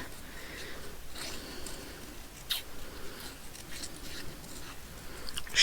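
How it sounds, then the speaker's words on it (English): Scissors fussy cutting paper ephemera, with soft, intermittent snips and rustles of paper close by, quiet and unhurried, with no voices. "But first I need to fussy cut these."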